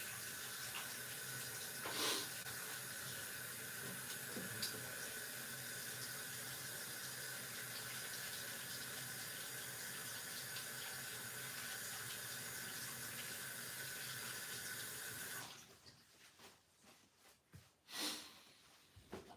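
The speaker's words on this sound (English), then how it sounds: "Let me go wash my hands." Tap water runs steadily at a kitchen sink as hands are washed, a continuous hiss lasting about fifteen seconds before it cuts off, followed by a few faint handling clatters.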